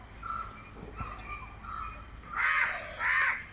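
A crow caws twice, loud and close, harsh calls standing out over quiet background noise with faint bird sounds earlier.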